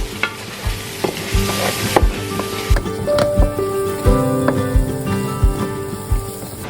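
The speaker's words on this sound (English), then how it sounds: "saute the onions until they are softened for about 5 minutes" About a cup of chopped onions sautéing in a pan, a steady sizzle and hiss with repeated scraping and stirring knocks of a utensil on the pan, close and fairly loud.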